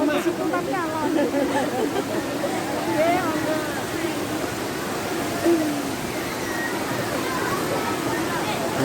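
Jumog waterfall in Karanganyar, Central Java, roars as a steady broadband wash of falling water, with crowd chatter and bird-like calls over it.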